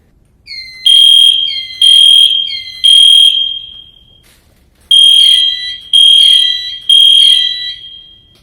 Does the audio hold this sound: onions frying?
no